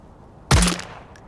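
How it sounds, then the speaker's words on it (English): A single loud gunshot rings out in a video game, a sharp blast at the start followed by a short decaying tail and quiet after. "That wasn't a good shot, people."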